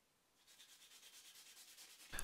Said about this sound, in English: I can start sanding everything nice and flat and smooth.